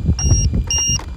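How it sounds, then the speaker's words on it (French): A LiPo battery alarm buzzer on a Hammer Rey 4S 1650kv RC model beeps in short repeated high tones over a rumbling, breathy background. "c'est juste le lipo-buzzer"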